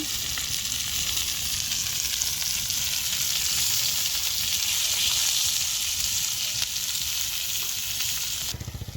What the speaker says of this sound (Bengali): মাছটা ফ্রাই হয়ে গেছে, এবার আমি থালে নামিয়ে নিচ্ছি